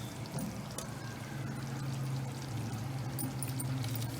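Ground masala paste added to eggplants cooking in a pan, a continuous close wet sloshing and sizzling with small scraping ticks, no talking.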